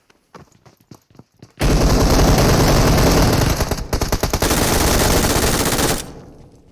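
Video game gunfire starts with a few scattered single shots, then breaks into a loud, sustained automatic burst that lasts several seconds before it fades.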